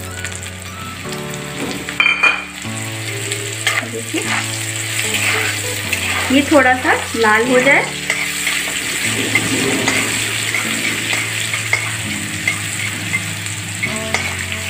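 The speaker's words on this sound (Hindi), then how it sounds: "अब हम इसमें ये जो मैंने रखा हुआ है काट के लहसुन और हरा मिर्चा वो डाल देंगे।" Chopped garlic and green chillies frying in hot oil with popped mustard seeds, a loud continuous sizzle and crackle with stirring scrapes, while someone speaks briefly over it.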